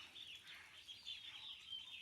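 Chickens pecking at grass outdoors, faint soft clucking and calls in a quiet, brief stretch with no voices.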